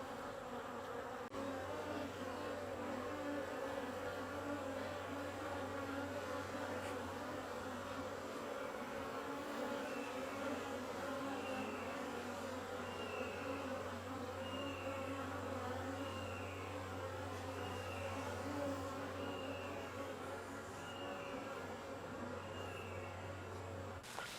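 Honey bees swarm in and out of a backyard hive during honey collection, a steady, dense buzzing drone that holds unbroken and fairly close throughout, with no voices.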